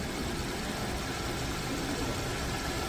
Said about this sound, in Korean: 이 차는 주행거리가 좀 많습니다만 엔진 사운드 한번 들어보세요.